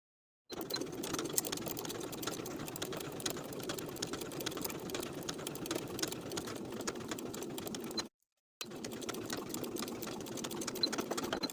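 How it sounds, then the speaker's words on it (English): A sewing machine stitches the collar edge of a shirt jacket, running in a continuous close hum for several seconds, breaking off briefly, then starting again. "Sew that single edge of the collar in place from one side of the seam allowance to the other"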